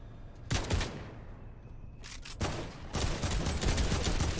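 Bursts of gunfire in a first-person shooter video game, heavy volleys of shots arriving in several loud clusters with brief gaps between them, no talking.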